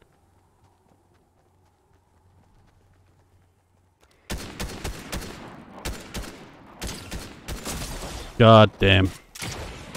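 Fortnite gunfire breaks out after a quiet stretch: a quick run of sharp close shots with short gaps, footsteps and game effects mixed in, a brief louder tonal effect near the end, and a person muttering.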